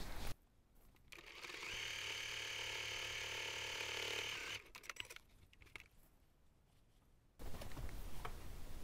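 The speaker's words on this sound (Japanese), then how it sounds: "ここをまず縫います。" Sewing machine stitching fabric for a small pouch, a close rapid mechanical rattle running for about three seconds, then pauses and a second short burst of stitching toward the end.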